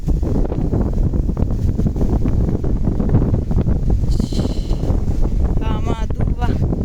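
Strong wind blowing outdoors near a tree at a third-floor height, buffeting the microphone as a loud, constant rumble with brief voices in the background.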